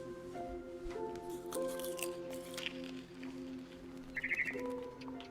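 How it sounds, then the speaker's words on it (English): A barn swallow chirps in the video game What Remains of Edith Finch, heard as a short, bright burst of rapid twitters near the end, set over steady, sustained musical tones and scattered soft clicks. "Then I heard chirping outside my window."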